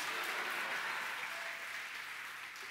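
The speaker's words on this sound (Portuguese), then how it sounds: "aplauda ao Senhor" A church congregation claps during a sermon, a faint but continuous wash of many hands that fades slightly toward the end of a few seconds.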